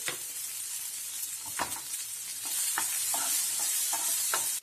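Onions and tomatoes sauté in a pan for Madurai mutton salna, a constant close sizzle broken by a series of scraping stirs, with no talk.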